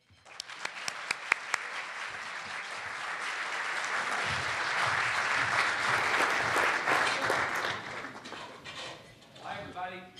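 A luncheon audience bursts into sustained applause welcoming a speaker to the stage, a few sharp early claps swelling into a full, steady ovation that fades as a voice begins speaking.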